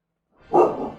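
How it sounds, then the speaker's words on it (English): A single sharp dog bark in the video game Final Fantasy 16, close and loud, rising out of silence and trailing off within a second. "Crazy dog."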